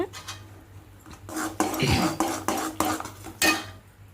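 A spoon scrapes and clinks against a metal pan in uneven strokes while stirring sugar syrup for homemade chocolate, close by, with occasional louder knocks.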